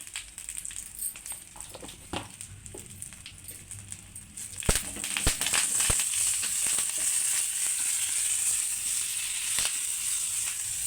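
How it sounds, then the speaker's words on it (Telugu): Spices tempering in hot oil for a mango and moong dal, sizzling with a steady crackling hiss that grows louder and denser partway through and continues unbroken, with sharp pops scattered throughout. "చూడండి నేనైతే తడక వేసుకుంటున్నా పప్పులో."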